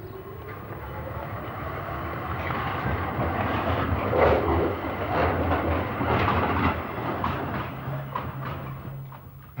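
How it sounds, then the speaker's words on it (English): Tram running on rails, a steady rumbling roll with a clattering, rattling texture that swells and eases over about ten seconds, close by and with no voices. "Until the end of his life, he preferred to take the tram."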